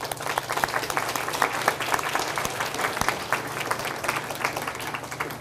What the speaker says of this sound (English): So join me in applauding her.